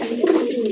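A desi pigeon gives a single short, throaty coo close by, low and soft.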